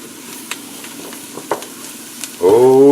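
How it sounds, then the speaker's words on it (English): After a few faint clinks of a spoon, garlic drops into a pot of chicken stew and a loud sizzle bursts up near the end, alone with no talk. "We're going to put the garlic in there next."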